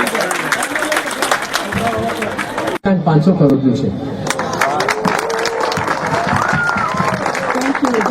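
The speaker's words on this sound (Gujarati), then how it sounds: "તાળીઓના ગડગડાટથી એને વધાવીએ ને આપણા મોંઘેરા મહેમાનોને આવકારીએ દિલથી." Crowd applause at a welcome for guests during a trustee's visit to Junagadh, steady clapping heard under someone speaking loudly into a microphone, with a brief dropout partway through.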